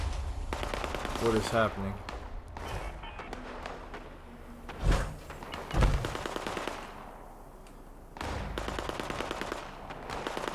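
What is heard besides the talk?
gunfire in the video game Fallout 76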